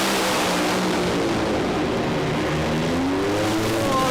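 Two drag racing cars blast down side-by-side lanes at over 500 km/h, a loud, continuous engine roar with rising and falling whine that fills the whole clip, no talk over it.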